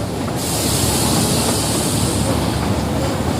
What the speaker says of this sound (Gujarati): ટ્રેન જઈ રહી છે અહીંયા પૂરું જંગલ છે